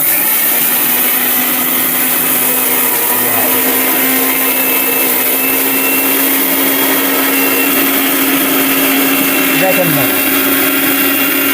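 A 1200-watt electric blender grinds cumin with a loud, continuous motor whir and a steady hum that holds for the whole stretch, while someone speaks briefly over it.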